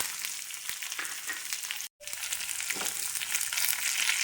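Chopped shallots and curry leaves frying in oil, a continuous close crackling sizzle with a brief break in the middle and a few soft knocks.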